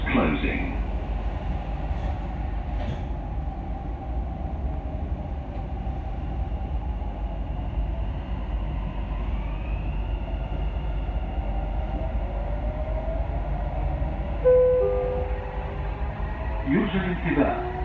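Dubai Metro train runs between Ibn Battuta and Jumeirah Lakes Towers stations, a steady loud interior rumble and roar with faint rising motor whine and brief squeals near the end, heard from inside the carriage.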